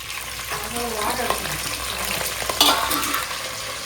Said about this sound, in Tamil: நம்ம குழம்பு தாளிக்கிறதுக்கு கருவேப்பிலை கொத்தமல்லி பச்சை மிளகா வெங்காயம் சேர்த்துக்கலாம்